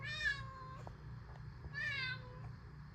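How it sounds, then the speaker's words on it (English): Two clear cat meows, the second slightly longer, close by, with a low steady hum underneath and no talking. "Gonna give me one more meow?"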